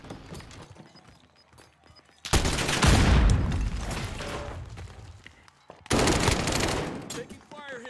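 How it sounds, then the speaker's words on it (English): Heavy bursts of automatic gunfire in Call of Duty, loud and close, with a long sustained barrage around the middle and a second volley near the end, between quieter stretches of ambient battle noise. "Taking fire here."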